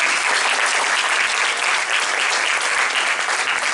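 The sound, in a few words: audience applause for guests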